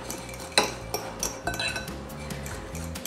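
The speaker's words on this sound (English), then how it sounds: "I'm going to mix this together just until we get a nice crumble" Butter and breadcrumbs tossed together in a bowl for a tuna noodle casserole topping, with a few sharp utensil clinks and scrapes against the bowl over a steady kitchen background hum, close and fairly quiet.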